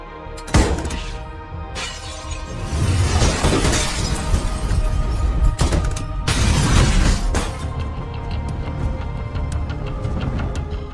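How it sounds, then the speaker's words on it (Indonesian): Gunfire shattering and wrecking a house in a John Wick film, with dense glass-breaking crashes, heavy booming impacts and loud sustained debris clatter throughout. "Santino menembaki rumah milik John hingga rumah tersebut terbakar dan hancur tak tersisa"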